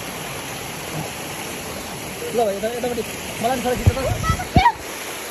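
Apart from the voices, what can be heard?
babbling water of a stream and waterfall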